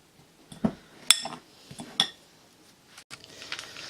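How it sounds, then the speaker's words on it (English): A knife chops through a bar of Cadbury's chocolate on a hard board, with a few sharp separate clacks and taps spaced irregularly, close and moderately loud against quiet room tone. "I've bought some Cadbury's chocolate. I'm just going to chop it up a little bit."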